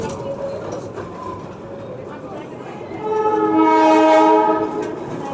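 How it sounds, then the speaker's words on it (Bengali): Darjeeling toy train reversing out of Ghum station on a joy ride, its rumble building and a long harmonic horn blast rising loud near the end, with voices in the background. "ঘুম স্টেশন থেকে ট্রেন বেরিয়ে গেল"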